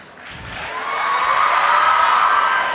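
College students at an inter-collegiate cultural fest in Mangalore clap and cheer, the noise swelling from quiet to a loud, sustained roar with a whistle-like tone running through it.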